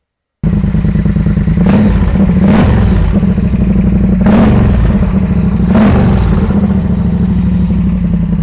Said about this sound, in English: And then having nothing at all there, just an open pipe, sounds like this.